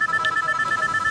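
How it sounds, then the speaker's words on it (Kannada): A mobile phone rings close by in a domestic comedy scene, its steady electronic tone pulsing in a quick, even rhythm with no talk. "ಫೋನ್ ಬತ್ತಡಿ ಯಾರ್ದು"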